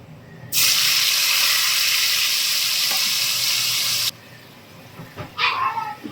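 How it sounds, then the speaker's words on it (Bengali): Spice paste mixed with water hits a hot wok and erupts into a loud, sharp sizzle lasting about three and a half seconds, then cuts off, followed by a few quieter clatters and splashes. "খুব ভালো করে মিলিয়ে নেব, নিয়ে তারপরে এটা আমি কড়াইতে ঢেলে দেব।"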